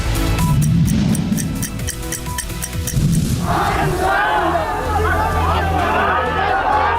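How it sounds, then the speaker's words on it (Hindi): A crowd shouts protest slogans at a Nitish Kumar election rally in Bihar, with loud overlapping voices and babble, the chanting swelling in bursts that rise and fall. "एक और रैली, एक बार फिर खिलाफ में नारेबाजी"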